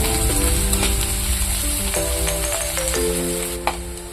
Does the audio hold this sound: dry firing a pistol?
no